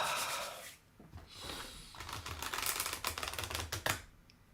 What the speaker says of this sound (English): it's a larger deck, but it shuffles really nicely.